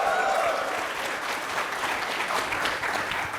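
Audience applauding at a campus fireside chat welcoming a company founder back to his alma mater, a fairly soft, steady clapping that fills the whole moment.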